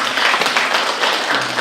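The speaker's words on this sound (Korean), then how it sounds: "박수를 한번 칠까요?" Audience applause at a morning Korean traditional music concert and talk in Sejong, a dense, sustained patter of many hands clapping nearby for under two seconds, steady and unbroken.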